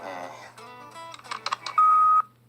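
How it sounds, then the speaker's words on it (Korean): Telephone dialing on a public phone in an animated cartoon: several short tones and a series of quick blips, ending in one long steady beep, with a voice speaking briefly at the start. "아 공중전화네요."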